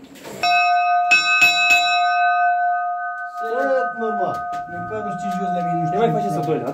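Several sharp church bell strikes, rung by an electronic controller, ring out with long sustained tones, then people talk over the lingering hum of the bells.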